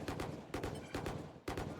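Three or four sharp rifle shots in a Valorant esports match, evenly spaced and loud, with a short ringing tail after each.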